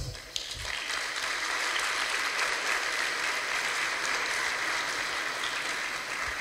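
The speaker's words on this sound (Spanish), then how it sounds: "Un fuerte aplauso." A convention-center audience at an evening conference gives a strong round of applause, a dense steady wash of clapping that holds fairly loud from start to finish with no voices over it.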